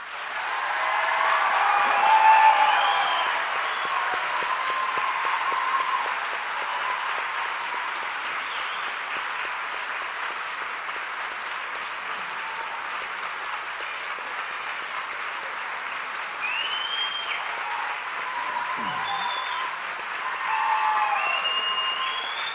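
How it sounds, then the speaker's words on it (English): Sustained applause from a large audience at a university graduate hooding ceremony, a dense, steady wash of clapping lasting the whole stretch with slight swells near the start and end, no voices above it. "I'd like everybody to give one big round of applause for all the graduates"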